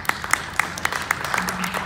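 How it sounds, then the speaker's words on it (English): Sparse applause from a small audience at a live event, a handful of separate hand claps scattered across a couple of seconds with a faint murmur beneath. "A sprinkling of applause."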